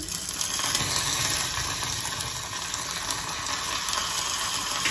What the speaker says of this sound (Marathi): तर मी मोहरी टाकून घेते त्याच्यामध्ये, थोडीशी मोहरी। ही चटणीची फोडणी करत आहे मी।